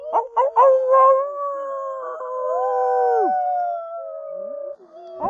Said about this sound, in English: Kevin and I never dreamt that part of our job description would be teaching a wolf how to howl.